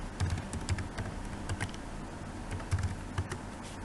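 Fingers tap out a root password on a computer keyboard, a run of light, quick clicks in irregular bursts with short pauses between, close and clear, no talking.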